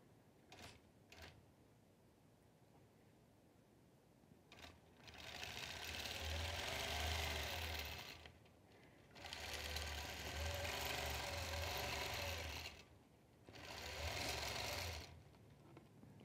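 Domestic sewing machine basting a quilt, running in three sustained bursts of rapid, even stitching separated by pauses with a few small handling clicks, fairly quiet and close with no talk.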